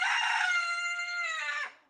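A rooster named Little Bit crows once in a long, loud, drawn-out cock-a-doodle-doo close by, ringing clearly alone and trailing off at the end.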